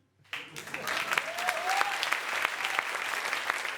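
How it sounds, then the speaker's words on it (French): A crowd breaks into sustained applause that starts abruptly and continues steadily, dense clapping filling the room, with a faint voice rising briefly underneath. "On peut applaudir le petit Patchy"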